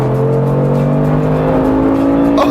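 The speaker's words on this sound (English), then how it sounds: "Those side exit exhausts provide a suitably chaotic soundtrack, and the way it accelerates is just astounding" The side exit exhausts of a 2019 Mercedes-AMG G63 roar loudly and continuously as it accelerates hard, a deep, rumbling engine note held close throughout.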